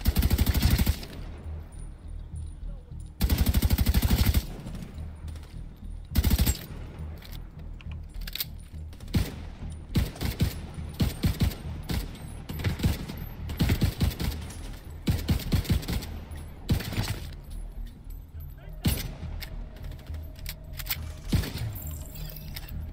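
Rapid bursts of automatic gunfire from an unstable, hard-to-handle weapon in The Division 2, loud and close, crackling in repeated volleys across the whole stretch with short gaps between bursts.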